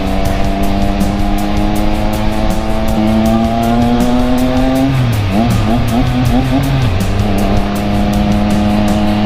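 A motorcycle engine drones steadily at close range, pitch rising and dipping as it shifts gears while riding along, with wind buffeting throughout.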